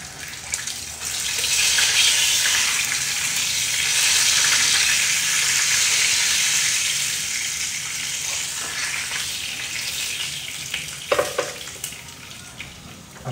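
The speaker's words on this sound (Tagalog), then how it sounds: "Ako po ay nagluluto ng pork steak." Pork steak sizzles and fries in a pan with a loud, steady hiss that swells and eases, followed by a few clinks and stirring sounds near the end.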